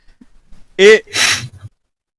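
A single sharp sneeze, a quick inhaled gasp followed by a burst of breathy noise, close and loud against otherwise quiet surroundings.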